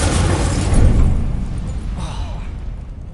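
An Incendio fire spell from Hogwarts Legacy erupts as a low, rumbling whoosh of flame that swells and then fades over a few seconds, loud and close.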